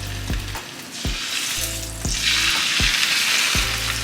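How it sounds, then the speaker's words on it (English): Salmon laid into a hot pan sizzles loudly and steadily, the hiss swelling as the fish settles, with a few sharp utensil clicks and a low background hum. "You hear that sizzle?"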